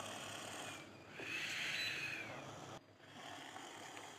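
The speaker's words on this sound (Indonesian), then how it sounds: "Ada anak-anak kecil lagi ngorok." A small child snoring in sleep, the snore sound steady and soft with one drawn-out rasping breath in the middle, recorded close in a quiet room.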